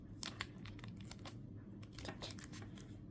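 Papercraft tape is torn and pressed onto paper parts for a shotgun model, giving quiet, close crinkling and short tearing rasps in irregular bursts against a soft background.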